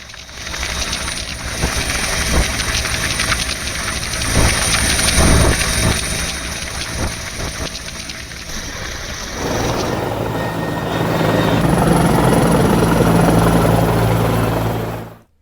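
A helicopter showers flowers on Kanwar pilgrims, its steady rotor and engine drone loud and continuous, shifting in tone partway through as the aircraft moves overhead.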